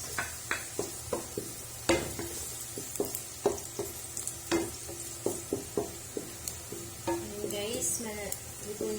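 Onion and garlic sauté in hot oil for beef giniling, a steady close sizzle broken by regular scraping and tapping clicks as a utensil stirs the pan.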